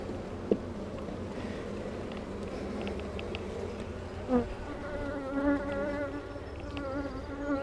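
A guard honeybee buzzes persistently and close during a hive inspection, giving a steady insect drone with shifting pitch as it circles near, with no talk.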